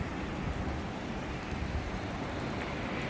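Steady rain hisses down outdoors on a gray day in Thailand, a dense, even wash of drops on surfaces that holds at constant loudness throughout.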